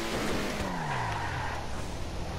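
An old Ubermacht Zion Classic car in GTA Online skids under the e-brake, tires squealing in a descending whine over loud engine roar, brief and close.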